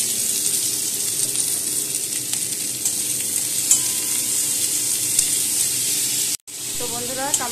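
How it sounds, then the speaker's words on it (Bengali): Chopped tomato frying in a pan, giving a loud, continuous close sizzle with light stirring clatter throughout, briefly cut off near the end before resuming. "তো বন্ধুরা এবার দিয়ে দিচ্ছি একটা আস্ত টমেটো কুচানো।"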